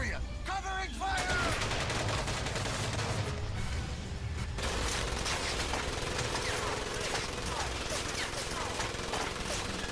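Dense covering gunfire from the World War II shooter Medal of Honor: Pacific Assault, rapid overlapping rifle and machine-gun bursts sustained across the whole stretch, with game voices shouting briefly near the start.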